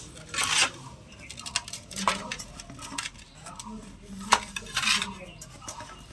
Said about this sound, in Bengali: এখন একটা ছুরির সাহায্যে প্রথমে ধারগুলো তুলে নেব